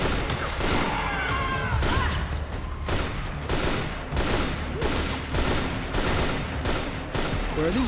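Sustained video-game gunfire from Metal Gear Solid 4, rapid automatic bursts and loud shots crackling continuously and close, with a few heavier impacts mixed in.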